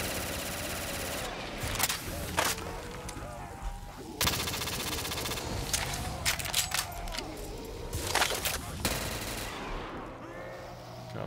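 Gunfire from a zombies-mode shooter game: repeated sharp shots in scattered bursts, moderately loud, over a dense background of game noise, with a player talking at times.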